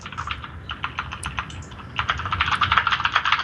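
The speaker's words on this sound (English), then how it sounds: "No, stop abusing that keyboard like that." A computer keyboard is being hammered in rapid, uneven bursts of clattering keystrokes, close and fairly loud, with no talk over it.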